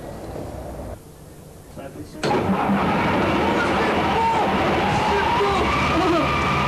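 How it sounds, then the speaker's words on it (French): A bus engine in Tiznit cranks and catches at about two seconds, then settles into a loud, steady idle that runs to the end, with a short muffled rumble before the start. "normalement, après, il faut appuyer sur démarrage"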